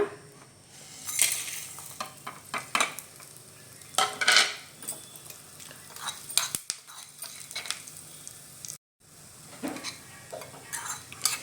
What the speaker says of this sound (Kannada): ಇವಾಗ ಇದರಲ್ಲೇ ಎಲ್ಲ ಗರಂ ಮಸಾಲೆ ಐಟಮನ್ನು ಹುರ್ಕೊಂಡ್ಬಿಡೋಣ